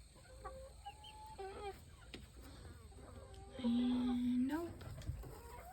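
Backyard hens cluck around a coop, with a rooster-like call and short squawks rising through the middle, close by, while a person speaks briefly over them.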